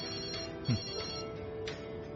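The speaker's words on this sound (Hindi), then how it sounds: "तुम्हारा फोन है?" A phone ringtone chimes faintly indoors, a few short tonal rings repeating over quiet background.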